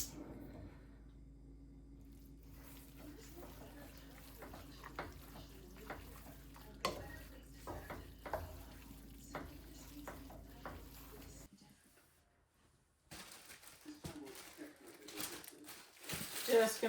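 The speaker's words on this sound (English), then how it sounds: "Just gonna cook up the rest of this hamburger now with the rest of that green pepper that I had and the onion" Hamburger cooking in a pan with green pepper and onion, a low steady sizzle with scattered stirring clicks and scrapes, faint and close, dropping away briefly near the end before resuming.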